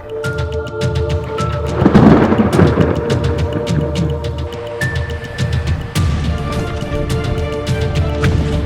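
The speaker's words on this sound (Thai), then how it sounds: "พอขนาดที่กางอยู่ พายุมาครับ" A thunderstorm rolls in over a seaside campsite, with heavy rain pattering close by and a deep rumble of thunder swelling early on, then steady rain with scattered drops and knocks.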